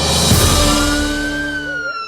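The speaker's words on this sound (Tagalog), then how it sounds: "Ang sirin sa bumbero maoy naghatag og signal sa mga mulupyo sa Barangay Haklupan" A fire truck siren wails steadily with a rising, sustained tone, loud and fairly close, signalling residents during an earthquake drill, with no talking.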